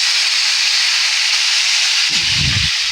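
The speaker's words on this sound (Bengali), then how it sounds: "মশলাটা আমার ভাজা হয়ে গেছে, এবার আমি এর মধ্যে গরম জল ঢেলে দিচ্ছি" Hot water is poured into frying spices for a Bengali potato and pointed gourd curry, giving a loud, continuous steamy hiss with a deeper burbling splash near the end.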